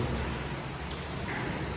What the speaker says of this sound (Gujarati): છે જબરદસ્ત વરસાદ છે